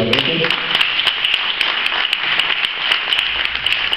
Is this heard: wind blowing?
no